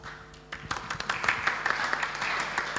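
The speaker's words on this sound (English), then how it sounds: "Let's give applause for Rebecca." Audience applause at an international seminar on audio archive preservation, a crowd clapping steadily after a presentation, building in after a quiet start and holding at moderate loudness with dense overlapping claps.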